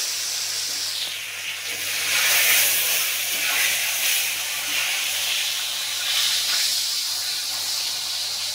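Fish pieces frying in hot mustard oil for a Bengali mustard-fennel katla dish, a steady close sizzling hiss with gentle swells, no talking.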